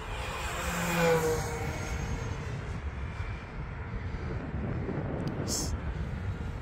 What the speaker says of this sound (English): We'll do a high speed pass here,